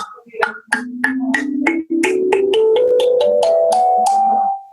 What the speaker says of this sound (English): So this is a thumb piano.